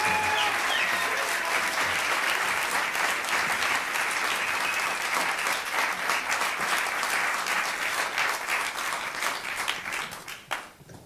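A large audience claps steadily at an evening event, a dense wash of applause that holds for several seconds, then thins and tapers off toward the end.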